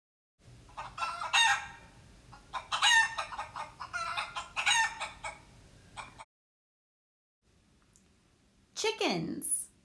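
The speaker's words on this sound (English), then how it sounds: "Chickens. I hear chickens." Several chickens cluck and a rooster crows loudly and close, in repeated bursts with a pause before a final sharp crow.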